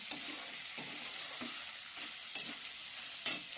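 Chicken pieces fry in a pan over a high gas flame, giving a steady sizzle broken by periodic scraping stirs about once a second, close and fairly quiet with no voices.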